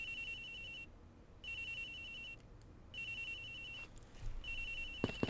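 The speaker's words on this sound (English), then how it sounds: "Agent Hicks's phone, it's ringing from somewhere, sir." A phone rings in the video game Ace Attorney Investigations, an electronic ringtone repeating in three evenly spaced bursts with short silent gaps, heard over a low background hum before a few soft clicks.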